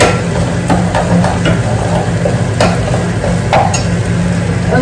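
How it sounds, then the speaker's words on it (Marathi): Chicken masala frying in a pan, giving a steady, loud close-up sizzle with occasional stirring clinks and scrapes throughout, no voices. "इथे चिकनचा आपला मसाला फ्राय करून घेतली."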